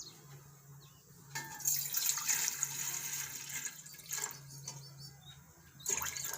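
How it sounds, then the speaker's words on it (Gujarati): Water poured into a cooking pot for rice, a steady splashing stream in a home kitchen that swells, eases and resurges several times with a low hum beneath. "આ રીતે આપણે પાણી એમાં નાખશું"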